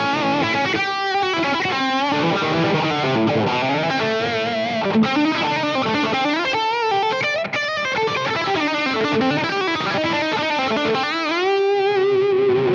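Electric guitar played through a Line 6 Helix LT with gain distortion engaged, a continuous loud, saturated stream of chords and notes with dense harmonics and no talking.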